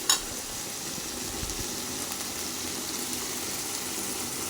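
Onions and tomatoes fry in a pan with a little salt, a steady continuous sizzle that runs evenly throughout, close and moderately quiet, with no voices.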